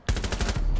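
Rapid burst of automatic gunfire in Rainbow Six Siege, a loud close run of evenly spaced shots lasting under a second.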